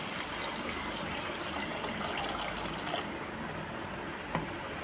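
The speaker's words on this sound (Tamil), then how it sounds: "இதில் தண்ணி ஊற்றிக்கலாம்." Steady rushing of water poured into a cooking pot of vada curry, continuous and fairly close, with a couple of brief clinks near the end.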